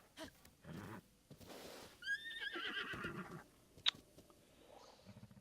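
A horse in Zelda: Breath of the Wild gives a clear whinny with a few hoof clip-clops and snorts, fairly quiet, while a man murmurs now and then.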